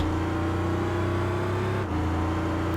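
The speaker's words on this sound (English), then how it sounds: "And that's more or less what I'm revving it up to." A Buell motorcycle engine in the racing game Tourist Trophy holds a loud, steady high rev with a rich harmonic drone, dipping briefly near the end before resuming, with no voices over it.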